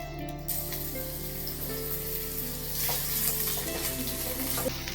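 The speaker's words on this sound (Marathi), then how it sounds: "एक मोठा कांदा असा उभा चिरून घेतलाय तो आता आपण या तेलात टाकूया" A large chopped onion frying in hot oil for mutton kheema, giving a constant close sizzle with bubbling crackle and occasional stirring scrapes throughout, and no voices.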